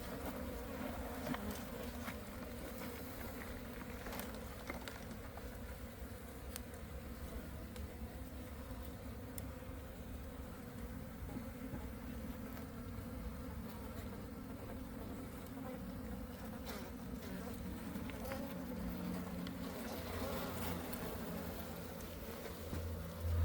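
A colony of honeybees hums as its hive is moved by hand. The buzzing is a steady, dense drone, close and continuous, with no talking over it.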